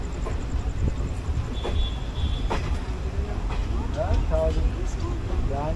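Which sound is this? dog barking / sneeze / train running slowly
train running slowly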